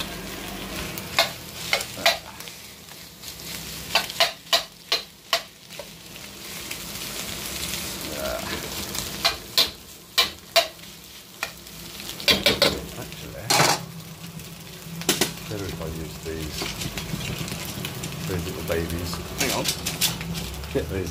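Rice stir-fries in a sizzling pan under repeated sharp clanks and scrapes of a utensil against metal, with a voice talking over the cooking throughout.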